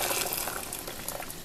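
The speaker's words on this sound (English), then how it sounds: "So the water is boiling now" Water boils in a pot on the stove for making bubble tea, a steady low bubbling hiss with small popping bursts, close by and fairly quiet, with no talk.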